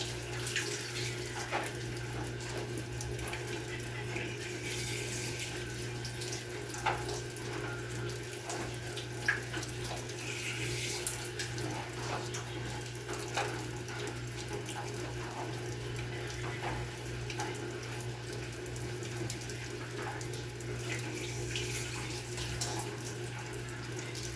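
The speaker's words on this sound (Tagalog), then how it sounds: "Lalagyan ko po ng tubig kasi para hindi sila mahirapan lumain." Water pours steadily into a dish of dog food for several dogs, a continuous faucet-like rush with a low steady hum beneath, no voices.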